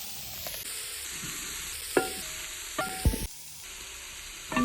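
Onions and spices with rock salt and turmeric sauté in a pan for a traditional beef roast, a low steady sizzle broken by a few sharp stirring clinks and scrapes, close by with no talking.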